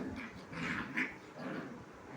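Puppies play-fight at night, giving a few quiet, short yips and growly squeals close by over a soft background.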